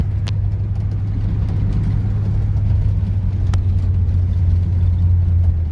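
A 1956 Chevrolet Bel Air V8 with a PowerGlide automatic rumbles steadily from inside the car while driving through town, a low, continuous engine drone with no speech.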